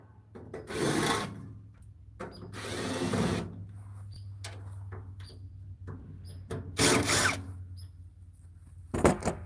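A power drill drives screws deep into a tight spot, with several short bursts of whirring separated by pauses, each run lasting about a second, heard up close.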